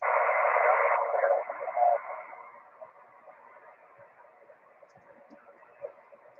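Faint, noisy amateur radio transmission on 146.415 FM with a thin voice fading in and out under static, weakening after the first couple of seconds.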